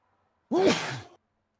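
A single short, breathy sneeze, close and alone, bursts out sharply and trails off within about half a second, with silence before and after.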